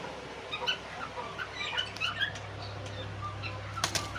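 Faint chirps and soft clucking calls from a breeding pair of cockatiel parrots, scattered irregularly over a low steady hum, with a brief scratchy rustle near the end.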